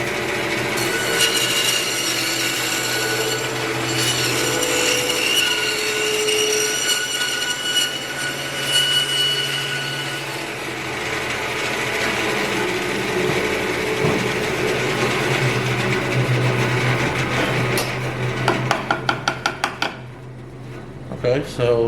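A Glowforge laser cutter works steadily through live tree wood coasters, giving a continuous mechanical whir and hum with rubbing, rattling tones, ending in a short series of sharp rhythmic clicks.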